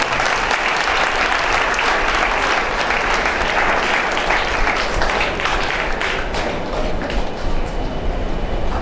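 Sustained applause from a large audience at a speaking event, dense steady clapping that holds at an even, fairly loud level throughout with no voices on top.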